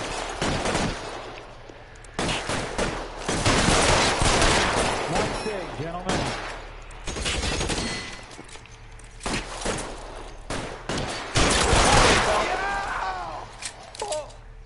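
Gunfire bursts in Mass Effect Andromeda, a game battle with sharp repeated shots in clusters across the clip, mixed with footsteps and effects, while a person talks over parts of it.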